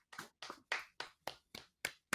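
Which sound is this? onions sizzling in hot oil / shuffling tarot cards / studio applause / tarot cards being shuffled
studio applause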